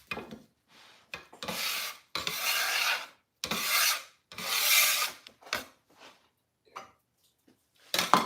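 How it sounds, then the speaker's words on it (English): A scraper rasps across a board to gather scraps of sourdough discard biscuit dough, several separate gritty strokes with short pauses between them, close and fairly loud. "now I am going to scrape up all these little scraggly pieces"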